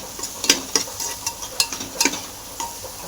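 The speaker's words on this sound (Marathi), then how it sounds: "मस्त तळून घेऊया" Onion, garlic, masala and chilli powder sizzle in hot oil while a spoon stirs them, making steady close frying crackle with repeated sharp scraping strokes against the pan.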